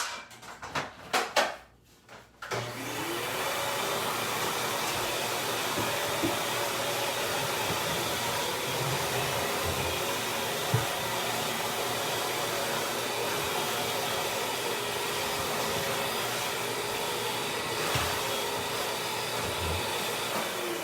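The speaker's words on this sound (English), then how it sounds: "Now I'm going to take the vacuum cleaner. I'm just going to vacuum this up" After a few clunks and knocks, a vacuum cleaner starts up and sucks up dirty water from a bathroom exhaust fan cleaning, running with a steady, loud whooshing drone, with occasional small rattles.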